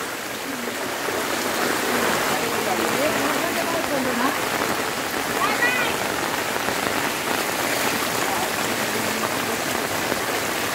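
Heavy rain pouring over a flooded market street, a steady dense hiss of drops on water and surfaces, with people talking faintly underneath.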